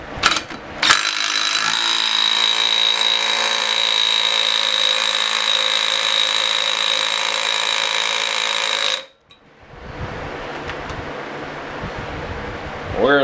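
A cordless impact wrench from Snap-on, Milwaukee or DeWalt torques a bolt, hammering in a loud continuous burst for about eight seconds before stopping abruptly, followed by quieter handling noise.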